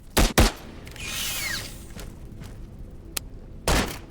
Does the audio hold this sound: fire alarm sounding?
no